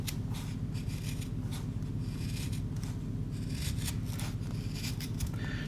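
A Bark River Gunny Hunter convex-ground fixed-blade knife carves a piece of pine, making close, repeated scraping and shaving strokes in an uneven rhythm over a steady low background hum.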